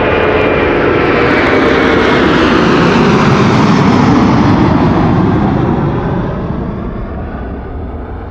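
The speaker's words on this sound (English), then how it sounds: "This is Delta Airlines flight 57 to Salt Lake City." A Delta Airlines jet on its departure roll from Amsterdam Schiphol, bound for Salt Lake City: a loud, sustained engine roar with broad rushing noise that holds steady, then begins to fade slightly as it climbs away.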